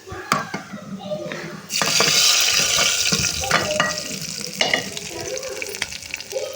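A hot tempering of garlic, onion, cumin, mustard seeds, curry leaves and dried chilli goes into a sour leafy-green pachadi with a bright sizzle, followed by clattering, scraping stirs with short bursts of hiss.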